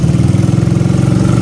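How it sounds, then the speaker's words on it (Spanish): A motorcycle engine labors steadily in fourth gear up a steep street in Villeta, a loud, close, rhythmic low rumble that holds constant without a break. "Obviamente la moto va lenta, pero tiene el torque como para subir esa cuesta, que es medio empinada, en cuarta."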